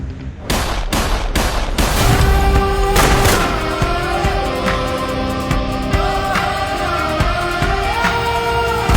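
Gunfire in a film trailer, a rapid burst of loud sharp shots at the start followed by a sustained booming rumble with scattered impacts under dramatic music tones.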